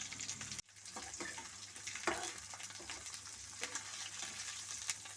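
Onion, garlic, green and dried red chillies dropped into hot oil for a tamarind curry, an abrupt sizzle after a short pause, then continuous crackling frying with occasional stirring clicks, close and moderately loud.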